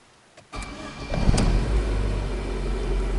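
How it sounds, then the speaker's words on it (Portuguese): A car engine turning over and catching, then settling into a steady cold idle that carries on alone at moderate loudness, with a brief rise in revs right after it starts. "veículo ligado, temperatura fria"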